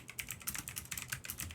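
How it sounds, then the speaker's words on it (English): Rapid typing on a computer keyboard, a close, steady patter of crisp key clicks with no voices. "Excuse my typing."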